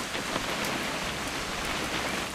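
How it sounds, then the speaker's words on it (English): Steady, dense rain in What Remains of Edith Finch, a continuous close hiss of drops hitting surfaces with no breaks. "It's gonna rain the whole weekend,"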